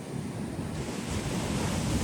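Big sea waves crash onto the shore in a continuous broadband roar, with wind buffeting the microphone. The surge builds slightly louder toward the end, and no one speaks.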